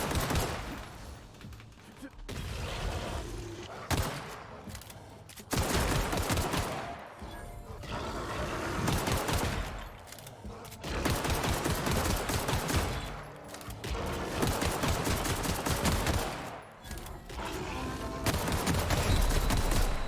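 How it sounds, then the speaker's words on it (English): Rapid bursts of gunfire in The Outer Worlds, fired again and again at a Space Deathclaw, loud and near, with brief pauses between volleys and a creature's roar mixed in under the shooting. "I'm just gonna keep on shooting it in its face."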